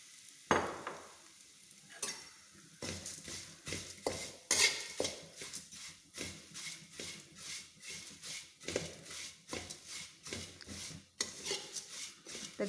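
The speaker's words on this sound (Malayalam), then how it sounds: "ഇനി അവൽ ഇട്ടങ്ങ് വറുത്തെടുക്കാം." Flattened rice (aval) roasts in ghee in a pan on a low flame. A spoon scrapes and stirs in repeated rhythmic strokes over a faint sizzle, with no talk.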